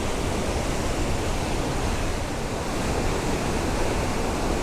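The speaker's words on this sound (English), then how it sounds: "I'm trying to get like this powerful waterfall coming down" A powerful waterfall at Tokul Creek, Washington, pours down in a steady, dense roar that stays close and constant throughout, with no voices or pauses.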